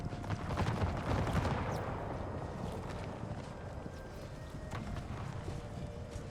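Musket volley fire in Empire 2 Generals Mod, a Berlin 1758 battle, heard as a dense rumbling mass of distant gunfire and battle noise, loudest early on and then settling into a steady roar.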